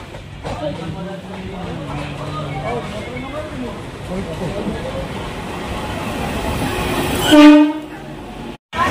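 A train pulls through a busy railway station on the way to Nalpur station, its loud rumbling clatter filling the scene, and a short horn blast sounds near the end while people talk in the background.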